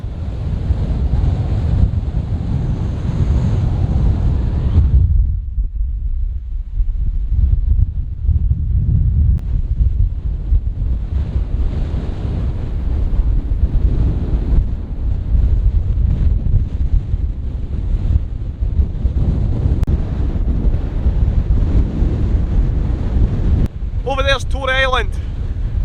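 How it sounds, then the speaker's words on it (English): Strong wind on a coastal headland in County Donegal, Ireland, roars steadily into the microphone, buffeting it with heavy low rumble, surf-like wash underneath, and a brief voice near the end. "It's a bit windy as you can see"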